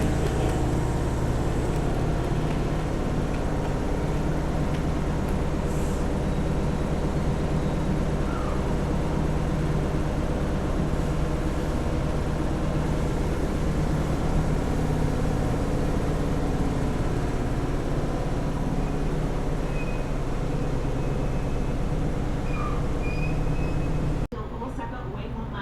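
Kintetsu Hinotori express train arriving at a platform in Japan, a steady loud rumbling drone with mechanical hum lasting over twenty seconds before stopping abruptly.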